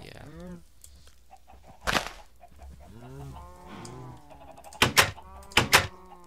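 Chickens in a Minecraft chicken farm cluck in short repeated bursts, with a few louder sharp clicks and thumps near the end, set over a faint steady game background.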